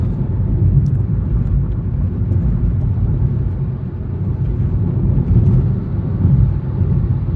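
A car cruises along a highway with a loud, steady low rumble of engine and road noise throughout, as heard from inside the vehicle. No one speaks over it.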